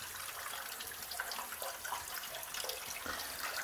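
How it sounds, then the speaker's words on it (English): Pressurised water shoots out in two streams inside an old abandoned gold mine, a steady hissing, splashing rush that stays constant throughout and sounds fairly distant and faint, with no voices. "Now it's got 2 distinct streams and even more pressure because it's shooting out all the way over there."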